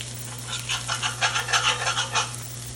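A NY strip steak sears in a cast iron pan on a stovetop, giving a steady close sizzle with scraping and stirring textures over a low constant hum.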